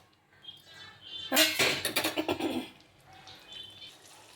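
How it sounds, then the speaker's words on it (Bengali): Hot water poured into a cooking pot of Bengali-style kochi patha (young goat) curry, a short splashing, hissing burst of about a second and a half, fairly close, followed by faint kitchen sounds. "এবারে আমি গরম জল দিয়ে দেবো।"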